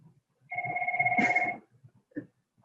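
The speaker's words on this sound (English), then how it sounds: "my phone rings all the time" A phone ringing once in a single sustained electronic ring burst of about a second, fairly quiet, with faint background noises around it and no talk.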